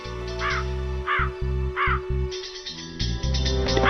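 A crow caws in a series of loud, harsh, evenly spaced calls over a steady musical backing, close and prominent throughout.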